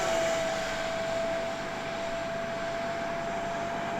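An Arrows RC 50mm T-33 hand-launch jet with an electric ducted fan flies a vertical test, giving off a steady, high whirring whine at moderate distance that eases slightly partway through.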